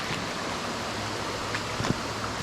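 An urban backyard creek flows in a steady soft wash, fairly faint and continuous, with a couple of small splashes near the end.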